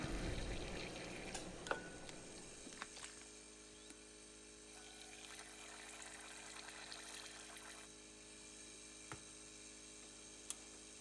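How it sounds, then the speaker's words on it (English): Water being poured into a beaker of sodium metabisulfite solution during a gold refining process: a soft, close splash and trickle at first, easing into a quiet liquid hiss with occasional faint clicks and ticks, no voices. "I'll just add a little bit of water to it"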